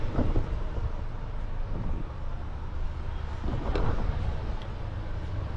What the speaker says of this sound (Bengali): ট্রেন আমাদের ঢুকছে প্রায় নির্ধারিত সময়ের থেকে কিন্তু আগে ঢুকছে